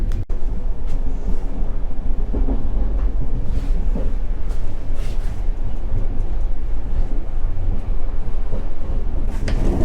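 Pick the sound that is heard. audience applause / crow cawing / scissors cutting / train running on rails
train running on rails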